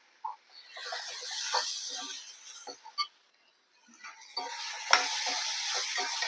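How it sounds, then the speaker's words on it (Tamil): Potatoes with ginger-garlic paste sautéing in a pan give soft, faint scraping stir strokes over a light sizzle, with a brief quiet gap and an occasional small metallic clink. "இவ்வளோ தான் இதில் வதக்கிட்டு இருக்கோம்"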